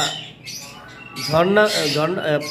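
A female cockatiel lets out a loud, harsh squawk with rising and falling pitch at close range, after a quieter moment at the start.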